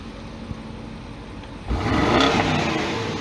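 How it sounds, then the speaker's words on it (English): BMW M850i xDrive (2020) accelerating: a quiet idle for a moment, then the engine abruptly swells into a loud, rising rev that stays strong and close until the end. "You can see the noise of the strong muscle power of the engine."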